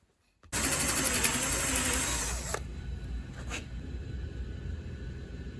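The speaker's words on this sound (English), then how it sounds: "This helps to keep the drill bit in the center." A power drill bores into a wooden spatula handle, guided by a small awl-made starter hole; a steady, loud whir runs about two seconds, then cuts off, leaving quiet room noise with faint clicks.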